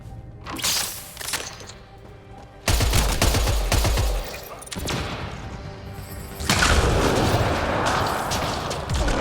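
Sci-fi weapons firing in a Mass Effect Andromeda shootout: rapid bursts of gunfire and heavy thumps, loud and close, coming in dense clusters with brief lulls and a fierce sustained volley at the end.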